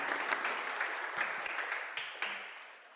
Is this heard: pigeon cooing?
no